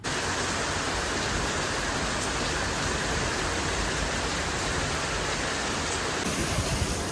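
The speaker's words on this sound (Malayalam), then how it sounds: "നല്ല മഴയാണ് കേട്ടോ." Heavy rain pours down at a heritage resort, a loud, steady broadband wash of water that holds at the same level from start to finish, with no talk over it.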